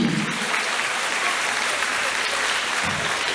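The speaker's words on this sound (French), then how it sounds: "On l'applaudit." An audience at the Miss Lens 2024 pageant claps in dense, sustained applause, loud and filling the whole stretch without pause, with faint voices beneath.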